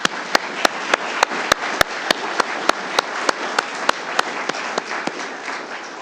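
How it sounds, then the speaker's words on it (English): An audience applauds paramedic graduates at a Dare County graduation ceremony: steady, dense clapping fills the room, with a run of sharper, louder claps standing out near the front throughout. "Let's give them all another round of applause."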